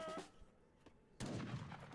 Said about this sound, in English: Looks like we're going to have a bit of an artillery battle right now.